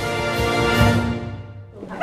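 A puppy at a veterinary office yips and whimpers up close in a short, loud run of high cries, with a sharper yelp at the very end.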